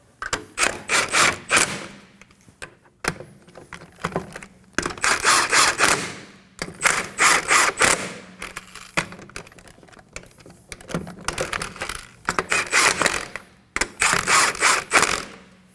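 A ratchet snugs the lug nuts on a rear wheel of a 2016-2020 Kia Sorento 2.4L L4 during a brake job, giving repeated bursts of quick clicking, close and crisp, separated by short pauses.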